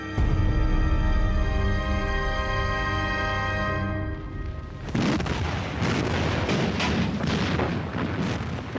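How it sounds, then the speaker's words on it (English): A full-scale battleship artillery bombardment of German bunker positions breaks in after a sustained musical tone, bringing heavy, rumbling booms and blasts that roll on densely and loud to the end. "Allied battleships begin a full-scale bombardment of the German positions"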